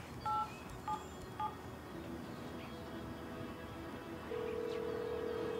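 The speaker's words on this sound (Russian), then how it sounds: "Сейчас ей позвоню." A telephone dials a number: three short tone beeps sound in quick succession, then a steady tone comes on under a low background rumble, with no voices.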